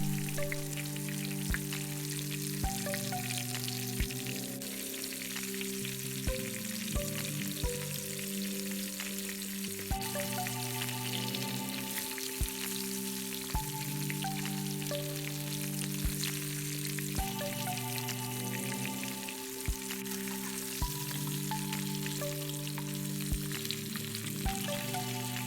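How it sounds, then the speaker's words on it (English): Colossal shrimp frying in hot oil, a steady, close crackling sizzle that runs unbroken throughout with a few louder pops, and faint musical tones underneath. "you want to fry it on both sides for about 2 to 3 minutes"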